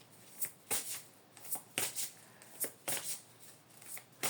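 Tarot cards being shuffled and drawn, heard as a quiet series of crisp riffling bursts at an irregular rhythm, close up and with no talk over them.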